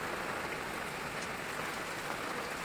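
Heavy first monsoon downpour in Pune, a dense, steady roar of rain hitting surfaces, loud and constant throughout with no voices.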